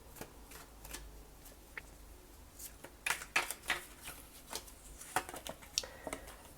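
Tarot cards are shuffled and laid out on a table in soft, quick riffles and light flicking snaps, close and quiet, with sharper card taps clustered near the middle, no speech.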